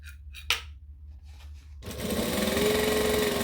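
After some quiet handling and rustling of fabric, a sewing machine starts up and runs steadily, stitching the sides of a fabric bag shut with a fast, even mechanical chatter that lasts to the end.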